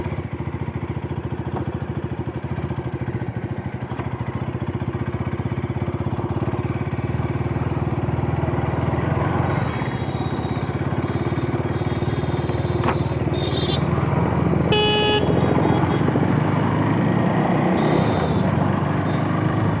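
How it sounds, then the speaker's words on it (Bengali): A KTM Duke 390 motorcycle engine runs steadily at a low idle-like drone throughout, with a brief higher whine partway through and no talking. "বাইকটাতে বসে বেশ ভালো লাগছে সাউন্ডটা যে ভাইব্রেশনটা দুর্দান্ত"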